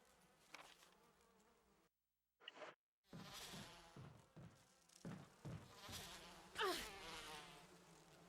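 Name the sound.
bees buzzing in the video game Resident Evil Remake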